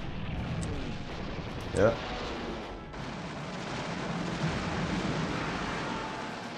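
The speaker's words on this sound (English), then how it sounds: "Going to bombard continuously." Artillery shelling in the World War II strategy game Panzer General II rumbles through a noisy wash of battle sound, with one sharper blast near the middle, while a voice briefly speaks.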